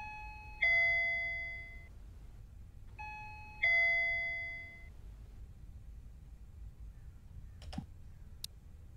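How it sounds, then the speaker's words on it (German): Doorbell at a front door rings twice, each a two-tone ding-dong with a bright chime that rings out and fades, about three seconds apart, followed by a couple of faint clicks in a quiet room. "Da klingelt jetzt jemand an der Haustür."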